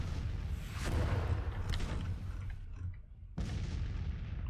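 Cannon fire booms in the Civil War strategy game Grand Tactician, with deep rumbling artillery blasts rolling over one another, followed by a brief lull and then another sudden loud blast.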